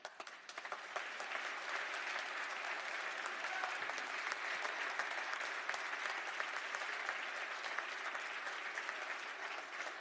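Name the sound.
applause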